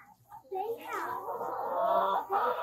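Chickens cluck and murmur inside a hoop house shared with rabbits on a farm, a close, busy run of clucks with a louder squawk near the end.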